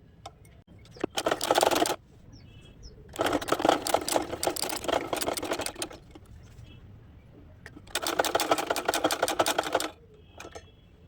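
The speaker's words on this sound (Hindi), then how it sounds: "अब इस तरीके से इस पर सिलाई लगाएंगे।" A sewing machine stitches lining laid under the outer fabric for a lehenga, running in three loud bursts of rapid needle chatter, each about one to two seconds, separated by quiet pauses with faint handling noises.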